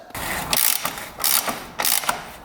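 A ratchet wrench loosens the single bolt holding a rear tire in place, giving three loud bursts of rapid clicking separated by brief pauses, close up and with no talking.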